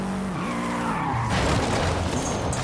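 A car in the Forza Horizon 5 racing game slides under the e-brake, tires squealing and skidding loudly over a steady engine roar, with a tonal engine pitch shifting early on.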